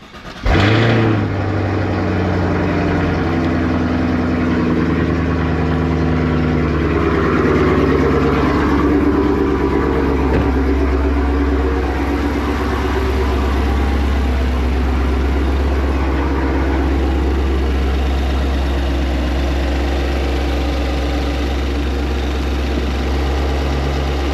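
A Camaro with an LT1 engine, freshly primed and checked for fuel leaks, starts with a brief crank and then settles into a loud, steady, close-up idle with a deep low rumble.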